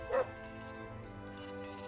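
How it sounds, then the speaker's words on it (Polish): A dog in the game Gothic II: Archolos gives a single short bark-like yelp near the start, followed by a faint background tone with light ambient noise. "mamy też tutaj naszego pieska, który powinien tutaj być"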